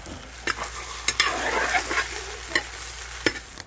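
Chicken frying alongside roasting chiles in a pan gives a steady low sizzle, punctuated by several sharp scrapes and clinks of stirring, close up and with no talking.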